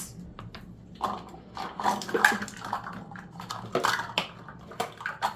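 Water poured into icing sugar for a buttercream cake covering, heard close up as irregular splashy bursts and wet sloshing with no voices.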